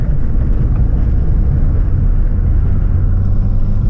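A 1990 Corvette ZR1 engine drones low and steady on a test drive, a continuous loud rumble heard from inside the car with no talking.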